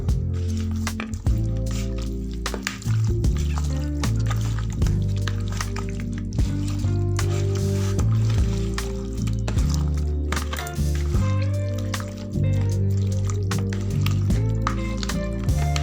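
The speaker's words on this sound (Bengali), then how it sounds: "এবার চিকেনটাকে ভালো করে আমি মেখে নেব।" Chicken pieces being worked by hand through a marinade for Afghan chicken, giving soft, wet squishing and squelching sounds that run steadily throughout, under a fuller background sound.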